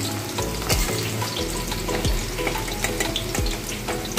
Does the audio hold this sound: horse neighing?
no